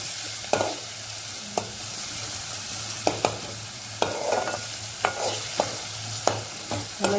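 Green chilli paste sizzling in oil in a pan, stirred with a utensil, with a continuous frying hiss and repeated sharp scraping knocks against the pan at an irregular pace.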